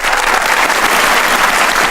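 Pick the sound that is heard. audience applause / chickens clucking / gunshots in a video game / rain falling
audience applause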